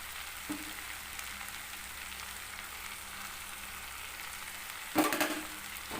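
Grated coconut and pumpkin fry in a pan with a soft, steady sizzle, quiet and close, broken near the end by a brief louder scrape and clatter of stirring.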